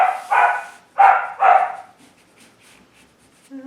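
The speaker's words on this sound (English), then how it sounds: "That bark, that high-pitched bark there is come in play." A dog gives a burst of high-pitched play barks, three or four sharp yips close together, loud and near, then fading into quieter scattered sounds.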